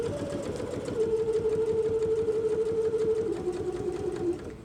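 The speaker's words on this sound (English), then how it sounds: "Put your presser foot down, back stitch at the beginning." A sewing machine stitching a zipper pouch runs steadily at close range, a continuous rapid mechanical whir with a constant hum throughout a few seconds of stitching.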